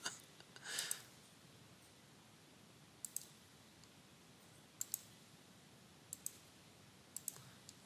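Sharp, isolated mouse clicks from a computer mouse during CAD work on a connecting rod, a brief cluster near the start followed by sparse single and double clicks spaced a second or more apart in a quiet room.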